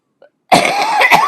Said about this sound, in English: I felt that cough come on the minute I saw this thing go live.